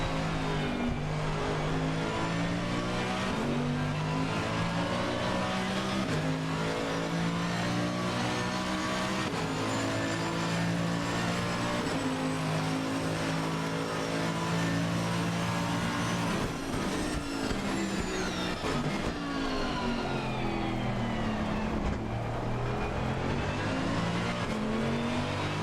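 Onboard race car engine from Assetto Corsa Competizione at the Nürburgring, loud and continuous, with rising revs and sharp shifts down and up through corners, occasional tire squeal, and no voices for the whole lap.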